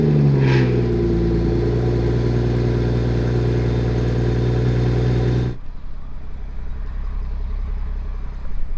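A car engine with a quiet stock exhaust idles close by with a low, muffled hum, then abruptly drops to a quieter background rumble partway through.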